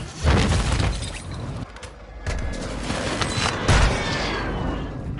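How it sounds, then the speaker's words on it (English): Airstrike explosions in Call of Duty, a run of heavy booms and crackling blasts rolling one after another, loud and dense with a brief lull midway. "Hostile airstrike incoming."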